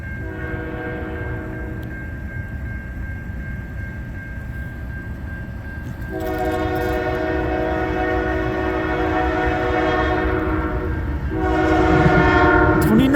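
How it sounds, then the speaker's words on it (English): Canadian K3L air horn on a CN freight train, sounding loud multi-chime blasts that start after a long held note, over the rumble and clatter of passing rail cars. "Looks like I hear Canadian K3L in this one."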